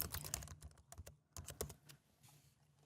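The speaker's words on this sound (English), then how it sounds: "We're going to copy that just to quickly type this up." Rapid keystrokes on a computer keyboard while code is typed, a close, irregular run of clicks in short bursts with brief pauses between them.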